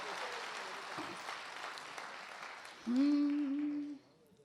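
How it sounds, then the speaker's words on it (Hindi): An audience at a Hindi poetry and comedy gathering in Jaipur claps for a few seconds, and the applause fades as a voice briefly sounds over it. "एक बार मुझे अनुमति की तालियां दे दीजिए"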